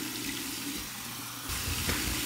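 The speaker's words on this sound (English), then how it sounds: "This is really going to wake me up. Cold water rinse." Cold tap water runs steadily into a sink for a face rinse after a shave, a continuous close splashing hiss that grows louder and fuller about halfway through.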